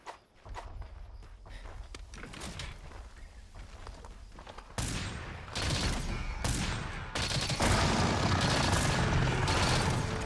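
Heavy bowgun firing pierce ammo in Monster Hunter, a steady rapid stream of loud shots that grows denser and louder midway, with footsteps and game action mixed in.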